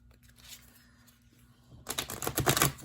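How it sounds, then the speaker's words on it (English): A quick burst of riffling, flapping sounds as a deck of cards is shuffled, dense and rapid, starting after a quiet stretch with faint rustling before it. "Let me just shuffle it real quick."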